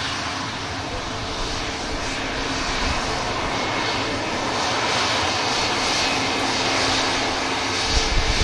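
Engine drone from a Pilatus PC-12 turboprop aircraft taxiing at an airport, a steady broadband hum at moderate level that holds evenly throughout without speech.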